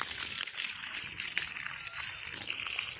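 Water is poured onto sun-dried garden plants, a soft continuous splashing and trickling heard close up, fairly quiet, with no voices.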